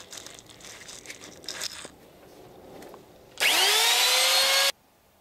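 A router spins up and cuts into a wooden boom spar, a loud, close, high-pitched whine lasting just over a second, following quieter rustling and handling noises.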